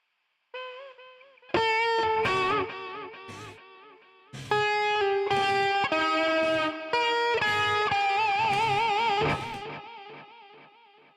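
Heavy song played back with distorted, effects-laden guitar tones: sustained chords and melodic lines enter after a brief quieter intro and stay loud and dense throughout, with no talking.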